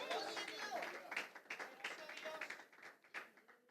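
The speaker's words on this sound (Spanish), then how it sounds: "Dale un aplauso a Cristo en esta hora." Church congregation clapping together at a service, a dense run of hand claps that swells and thins over a few seconds with voices mixed in.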